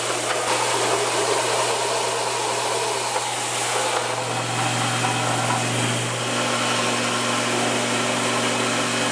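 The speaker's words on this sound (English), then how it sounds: "Now we're gonna head on over to the belt sander and work on getting this down to a shape that's actually usable." Belt sander grinding a dyed ramen noodle block, a loud steady motor whine with broadband abrasive hiss that shifts slightly as the block is pressed against the belt.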